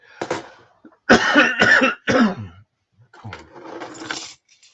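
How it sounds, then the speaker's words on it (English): A person coughs several times because of allergies, in short bursts grouped in a quick pair followed by a rougher, longer cough, heard close with no talking. "every once in a while I get that tickle in the back of the throat, and I'm just going to have to cough"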